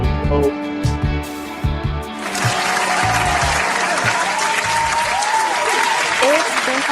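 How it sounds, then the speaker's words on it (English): A live audience at an unscripted reaction show bursts into loud, sustained applause with whistles and cheers after about two seconds of music and voices, then keeps clapping steadily to the end. "Round of applause for Miss Rochelle, man."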